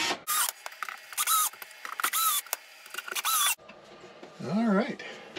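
Small screws driven one after another into teak trim along a boat's companionway, heard as short mechanical bursts of a driver with brief gaps between them, close and fairly loud, followed by a moment of quieter handling.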